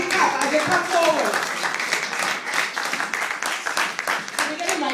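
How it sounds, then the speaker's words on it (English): A church congregation claps for a couple walking forward at a relationship service, a steady wash of applause running under a voice on the microphone throughout. "Come on, give them a big clap."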